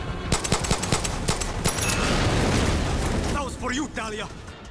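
Gunfire and an explosion in the Far Cry 6 shooter game: a string of sharp shots gives way to a sustained roaring blast, followed by someone talking.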